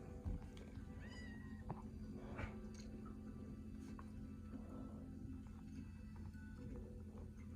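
Meowing from a cat in the Minecraft video game, a few short rising calls in the first couple of seconds, heard over a steady low game hum and faint clicks.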